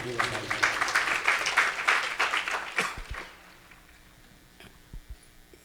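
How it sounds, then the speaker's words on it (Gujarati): Applause for a swami at a religious discourse gathering, a burst of many hands clapping together that swells, holds for about three seconds, then thins out into scattered claps and near quiet. "એ બધા સ્વામીને તાળીઓથી વધાવીએ."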